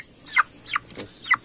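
Chickens clucking in a series of three or four short, close calls spaced irregularly over a quiet background.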